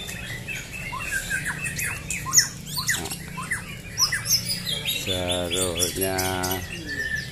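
Songbirds at a Sunday bird-singing contest at Telaga Cibinong chirp and squawk densely and continuously, many birds overlapping close by, with a brief voice partway through.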